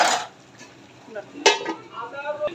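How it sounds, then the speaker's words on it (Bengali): Spice paste and potatoes stirred in a pan for a rohu fish curry with ghee and tomato, giving a few scraping clatters and soft scrapes, with a louder knock midway, close and fairly quiet. "মশলাটা আলুটা নাড়াচাড়া দিয়ে"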